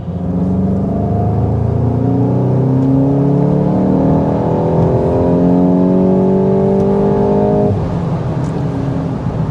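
A 2025 Volkswagen Golf GTI hot hatch engine pulls hard while driving, its loud rising drone climbing steadily through the revs before a shift drops the pitch, heard alone from inside the car.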